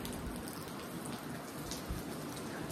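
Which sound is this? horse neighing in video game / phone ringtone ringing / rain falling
rain falling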